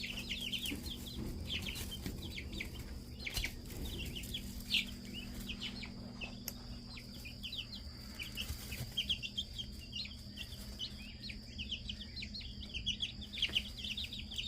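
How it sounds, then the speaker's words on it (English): Baby chicks in a brooder make soft, continuous high peeping and chirping throughout, with a low steady hum in the background. "Take you to the little chickie babies."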